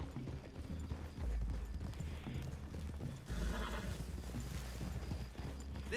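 Horses' hooves clip-clopping in the video game Red Dead Redemption 2, steady hoofbeats close by with a horse whinnying and snorting, loud and continuous over the whole stretch.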